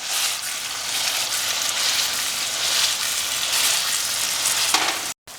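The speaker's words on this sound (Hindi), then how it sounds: "अब इन्हें थोड़ा सा मैश कर देते हैं।" Fried tomatoes being mashed in a pan for chicken curry, a steady sizzling scrape from close by, ending in a brief utensil knock and a short break.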